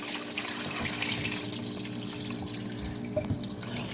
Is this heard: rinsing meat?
yes